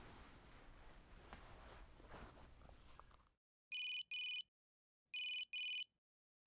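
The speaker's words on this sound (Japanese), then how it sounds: "ちょっと先生に電話するね。" An outgoing phone call rings on the line: after some indistinct room noise stops, two double-burst electronic ring tones sound clearly in near silence, evenly spaced.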